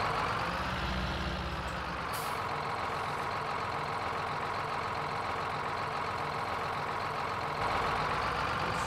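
Tractor ploughing a field in Farming Simulator 19: a steady, loud engine drone with low mechanical rumble runs throughout, no talking, with brief hissing bursts near the start and end.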